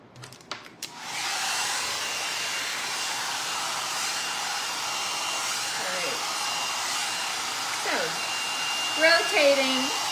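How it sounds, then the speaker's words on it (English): A hair dryer blows on hair in a loud, steady whoosh held for several seconds after a click and brief handling noise, with a voice faintly over it near the end. "I'm just drying my hair right now"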